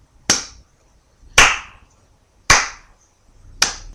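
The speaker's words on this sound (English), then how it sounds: "That was not a sarcastic slow clap. That was a sincere slow clap." One person giving a slow clap, four sharp, loud hand claps spaced about a second apart, close and alone with near silence between them.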